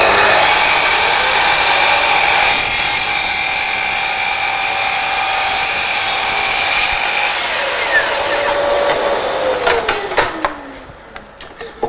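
A Festool Kapex KS 120 mitre saw cuts through wood nearly 120 mm thick, a loud, sustained high whine of the blade under load that winds down in pitch as it finishes, followed by a few clicks.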